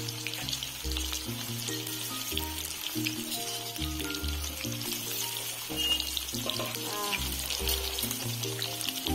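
Soya chunks fry in hot oil with a steady, continuous sizzle under loud background music, with no talking.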